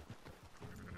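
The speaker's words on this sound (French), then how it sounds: "On a des moutons là" Sheep bleat in the video game Red Dead Redemption 2, a short, faint, wavering bleat in the distance over a low, noisy game background.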